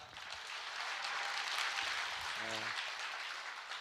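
A broad, steady wash of audience applause fills a hall where a speaker from Gwangju addresses a large crowd at a company introduction. It is fairly soft and distant, with a brief low tone near the end.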